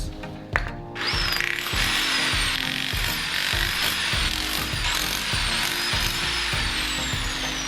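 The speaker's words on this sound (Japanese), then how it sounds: "これもうちょっとコンクリート削って鉄の板だけにしたいと" A power tool grinds concrete off a steel plate during a garage slope build, a loud continuous harsh whine with a regular pulsing chatter that runs throughout.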